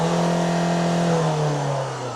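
A Citroën Berlingo engine revs up and holds at a steady high pitch, then drops slightly. It is loud, close and continuous, and no one speaks.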